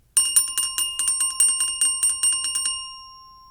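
Percussion bell roll, struck in rapid even strokes for about two and a half seconds with bright sustained ringing partials, then left to ring out and decay alone.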